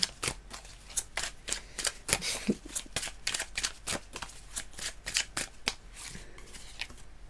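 A deck of tarot cards shuffled by hand nearby, brisk snapping riffles and slides coming in quick irregular bursts, fairly soft and without any talking.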